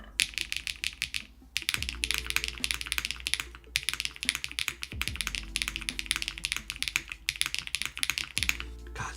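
Fast typing on a Tofu65 keyboard fitted with cheese switches and beige keycaps: dense, close bursts of crisp clacking keystrokes broken by brief pauses, with a few louder thocks and no talk.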